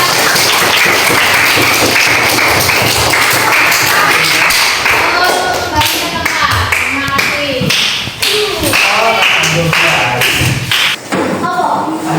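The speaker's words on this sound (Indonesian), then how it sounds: "kita beri tepuk tangan untuk kelompok kelas" A classroom full of people claps loudly and continuously, dense applause with sharp taps throughout, fading slightly near the end.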